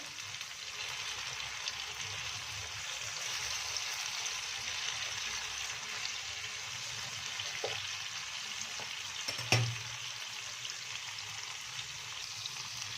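Battered okra pakoras frying in hot oil, a faint steady bubbling sizzle with a couple of light utensil knocks, no talking.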